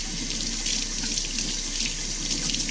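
Water runs from a tap into a sink while soap is rinsed off hands, a steady close hiss and splatter that continues unbroken, with no voices over it.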